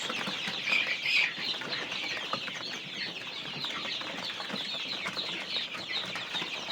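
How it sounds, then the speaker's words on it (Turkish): Small chicks of a Marcus Lutkaymut cross breed peep continuously in a dense, high-pitched chorus, steady and fairly close, with faint rustling and wing flutters underneath. "Burada bir 10 tane Marcus Lutkaymut çaprazlaması astrolog civcivlerimiz var dostlar"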